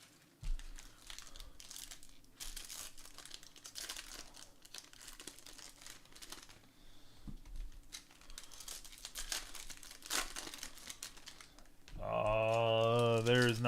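Empty baseball card packaging crinkles and crumples in close, continuous rustling bursts with faint talk underneath, ending in a louder swell of sound.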